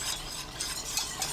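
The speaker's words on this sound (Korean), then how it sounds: "센 불로 켜고 저어가면서 끓여주세요." Glutinous rice flour and kelp stock being stirred in a pot over high heat, a soft, steady scraping and swishing close by with faint bubbling, no voices.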